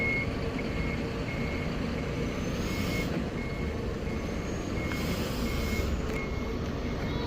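A Jetbus 5 bus on the 168 Trans line gives regular reversing beeps while it parks, a steady series of short tones over a loud, constant engine rumble.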